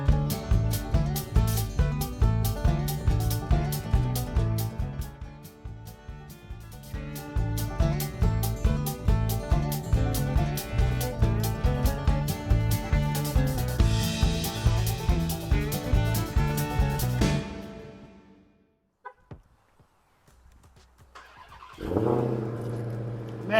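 A Dodge Hellcat's supercharged engine runs loud and close with repeated revs and a whining pulse before cutting off, then a short quiet pause and one more roar at the end.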